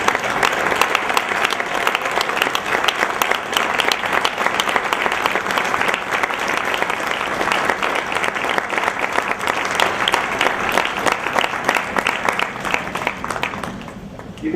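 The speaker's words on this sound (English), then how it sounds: "you're going to get a lot of applause" An audience applauds students at an evening ceremony, with loud, dense, steady clapping from a large crowd that carries on for many seconds before thinning out at the end.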